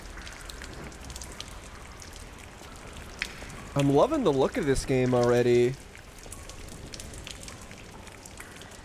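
Rainfall on a night-time station platform in Lies of P keeps up a constant soft patter and hiss while someone talks over it for a couple of seconds midway.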